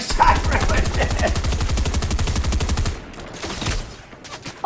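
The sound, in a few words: gunfire in the video game Fortnite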